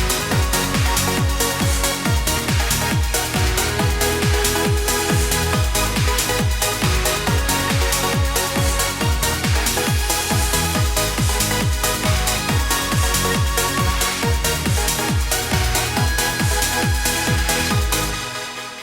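A trance track produced in Ableton Live plays continuously, with a steady four-on-the-floor kick, driving bass and bright layered synths, loud and full throughout before easing slightly at the very end.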